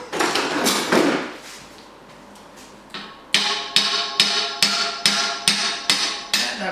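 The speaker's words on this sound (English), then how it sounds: "so I suspect if we just give this a knock" A corroded bearing is knocked out of a Planet X E130 road bike with a dozen sharp, evenly spaced metallic hammer taps close by, after a softer shuffle at the start.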